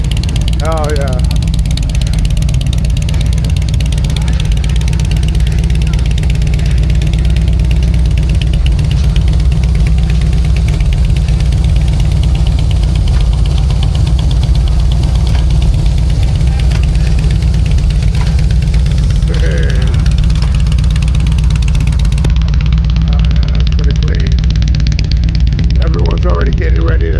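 Lowrider cars pull away one after another at the Impalas Stockton Super Show car show in Stockton, California, their engines rumbling steadily and loudly close by, with people talking in the crowd.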